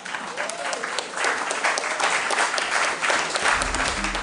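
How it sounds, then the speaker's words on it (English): A round of applause from the audience at a junior quiz show, dense sustained clapping that grows fuller after the first second and carries on evenly throughout, with a low rumble near the end. "Round of applause, please."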